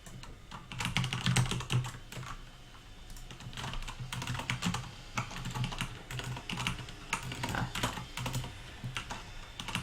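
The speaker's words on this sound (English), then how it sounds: "I swear I just become an idiot with typing when people are watching." Rapid computer keyboard typing during a coding session: dense runs of close, crisp key clicks with brief pauses between bursts and no speech.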